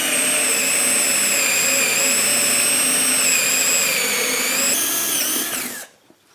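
Festool cordless drill driver in speed 2 boring through wood with a 20mm Forstner bit, a loud steady whine with a pitch shift near the end before it cuts off abruptly, leaving near silence.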